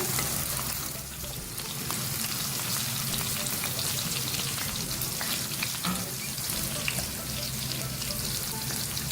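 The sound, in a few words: okra frying in oil until light golden brown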